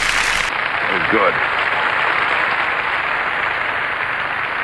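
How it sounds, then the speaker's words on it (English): Sustained crowd applause and cheering at the Eurovision Song Contest 1978 in Paris after Greece's performance, a dense steady roar, with a brief voice rising over it early on. "He gets a great roar of applause."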